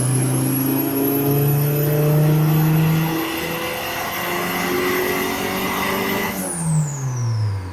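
A budget turbocharged Honda engine revs hard on a dyno, a loud sustained rising and falling engine note that climbs and holds before dropping off near the end, with no talking.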